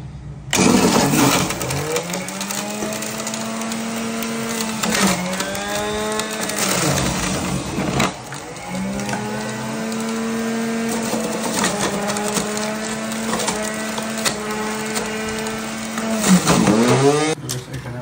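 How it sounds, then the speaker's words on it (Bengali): A motorized juicer whirs steadily while pressing fresh carrots into juice. The motor pitch sags under load and recovers several times, and it runs loud and close with no talk over it. "এখন আমি এখানটারে জুস করে নিব, ক্যারেট জুস"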